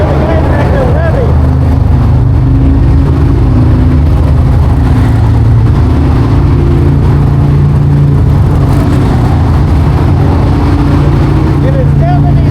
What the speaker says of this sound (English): You can hear the guys back there revving.